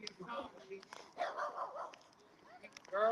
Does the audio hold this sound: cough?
no